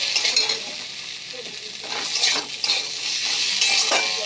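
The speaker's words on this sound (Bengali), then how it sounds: "এবার এটাকে আমি একটু নাড়াচাড়া করব" A ginger, chili and cumin paste with salt and turmeric fries in a pan, and a close sizzle is broken by repeated scraping stirs of a utensil.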